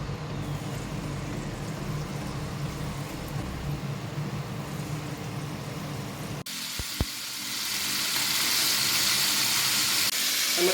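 Stuffed ripe jackfruit fritters frying in oil give off a steady hiss. After a couple of clattering knocks, a second fritter goes in and a louder, brighter sizzle takes over and holds to the end.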